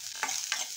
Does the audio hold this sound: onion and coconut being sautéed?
yes